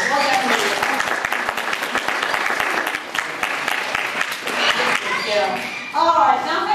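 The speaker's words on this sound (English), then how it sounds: "give them a nice big round of applause" Audience applause at a parrot show at Pleasurewood Hills theme park: dense, steady clapping from a crowd lasting several seconds, with a few sharper individual claps standing out and a brief voice near the end.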